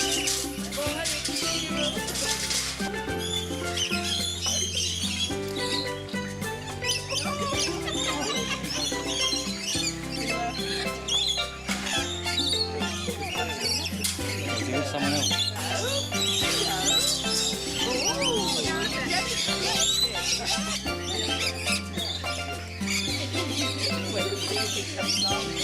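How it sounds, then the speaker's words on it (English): Many lorikeets chatter and screech continuously in a busy, shrill chorus, with background music playing steadily underneath. "We followed the noise of the birds to the lorikeet aviary."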